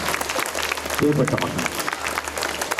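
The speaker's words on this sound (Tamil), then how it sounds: "கைத்தட்டலாம்." Audience applause rises briefly beneath someone speaking to a crowd at a school annual day, a dense patter of clapping that stays in the background.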